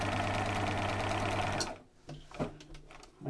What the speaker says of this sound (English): then we're just going to stitch along that last line